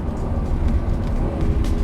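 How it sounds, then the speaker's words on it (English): Lamborghini Countach LPI 800-4 hybrid supercar with its combustion engine mounted behind the cabin, a dense low engine and exhaust drone heard briefly from inside, steady and loud. "The ICE motor behind your head makes a very significant noise in this car."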